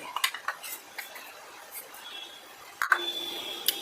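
A utensil scrapes and clinks against a metal pot of milk mixed with custard powder in scattered bursts, with brief louder knocks near the end.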